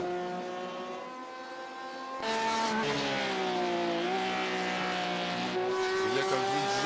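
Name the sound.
Porsche 911 RSR race car engine at Fuji Speedway, racing video game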